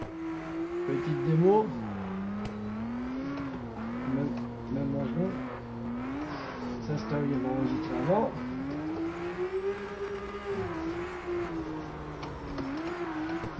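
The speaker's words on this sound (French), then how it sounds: "Hop, on redémarre la voiture." A car engine restarted after hitting a wall in a racing game, revving and whining through repeated rises and drops in pitch, heard steadily under someone talking.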